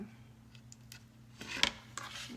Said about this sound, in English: I'm just going to trim that off with my scissors